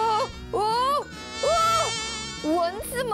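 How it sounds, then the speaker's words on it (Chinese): Cartoon mosquitoes buzz in high, whining tones that rise and fall in repeated swooping passes, loud and close, with a musical underscore beneath. "蚊子们都在你身边啊！"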